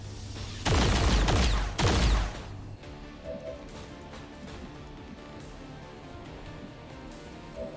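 Soldiers fire at an alien in indoor close combat in XCOM 2, two loud bursts of gunfire close together, then a quieter stretch of faint game ambience.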